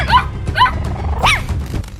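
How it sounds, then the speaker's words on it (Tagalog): Three small dogs bark sharply at an intruding thief in a garage, giving several quick, close, high yips and barks in a rapid cluster, alongside a few dull thumps. "biglang sumugod ang 3 bulilit na aso."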